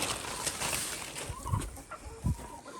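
Chickens eat in a pen shared with goats, giving a few soft clucks and brief low calls over quiet background noise.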